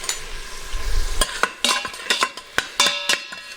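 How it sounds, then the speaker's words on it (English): Bell pepper and garlic sizzle in a hot pan, a steady frying hiss broken by sharp clinks and scrapes as a utensil stirs the contents, close and fairly loud, with no speech. "I'm going to put that in there like that and let that get to sizzling."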